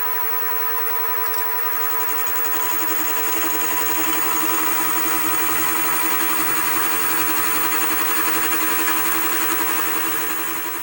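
A milling machine fitted with a Soba rotary table cuts metal in a steady, loud, continuous drone that starts up after a brief quieter moment and then holds evenly throughout, near and without talking.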